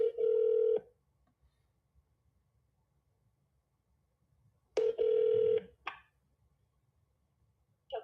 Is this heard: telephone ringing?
yes